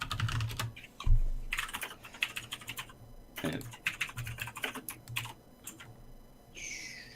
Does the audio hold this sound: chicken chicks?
no